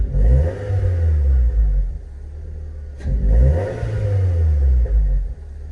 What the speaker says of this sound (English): So it's backfiring, sputtering and carrying on.